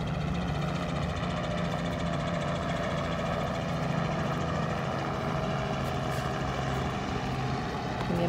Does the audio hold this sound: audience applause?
no